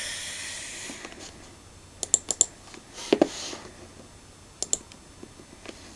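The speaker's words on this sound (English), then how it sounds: "I'm just going to click somewhere on my mat and tap "my" into my keyboard" Light keystrokes and mouse clicks on a computer keyboard while entering text in Corel Draw, a few isolated taps in small clusters over a faint background hiss, no talking.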